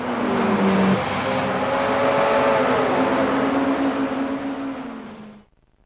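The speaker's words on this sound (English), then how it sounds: "We managed to reproduce wind noise this time and road noise, the sound of the tyres moving across the road surface." Simulated car in the Gran Turismo 3 racing game, with wind and tyre road noise over a steady engine drone that glides slightly in pitch, loud and continuous before cutting out abruptly near the end.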